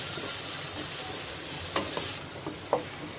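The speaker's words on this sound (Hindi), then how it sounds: "इसको 2 मिनट इसको ऐसे ही फ्राई करेंगे।" Vegetables frying in a pan for veg hakka noodles: a steady, soft sizzle runs throughout, broken near the end by a few short scrapes and knocks of stirring, with no talking.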